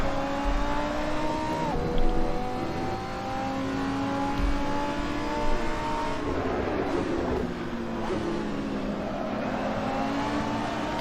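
GT3 race cars, including an Audi R8 and a Ferrari 488, roar around the Mugello circuit in the Assetto Corsa racing game, engines revving up and down through gear changes with overlapping cars close by, continuous and loud.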